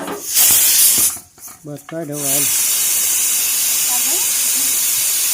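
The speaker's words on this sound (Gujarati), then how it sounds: "ત્રણ સીટી થઈ ગઈ છે કુકરમાં" A pressure cooker that has whistled three times hisses loudly as its steam is released, with a burst of close talking in the middle before the steady hiss carries on.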